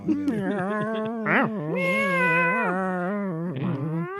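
Several voices take turns imitating cat meows, drawn-out and wavering, one after another at close range.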